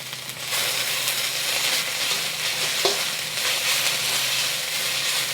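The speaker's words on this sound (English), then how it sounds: "I'm going to add my garlic. We're just going to cook this for about 30 seconds." Garlic fries in a hot wok for honey beef, a loud continuous sizzle with short bursts of stirring and a brief metallic clink, no voices.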